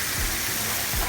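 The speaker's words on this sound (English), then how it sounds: "We're going to go ahead and deglaze that with a little white wine and a little Marcellus wine." White wine poured over browned aromatics in a hot pan for a surf and turf mac and cheese, giving a steady close sizzle and hiss throughout with no speech.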